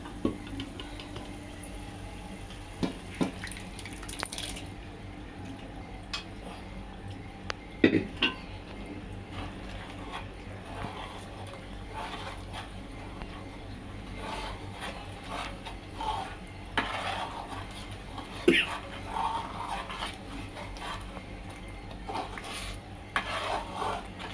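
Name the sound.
mashed vegetables added and stirred in pot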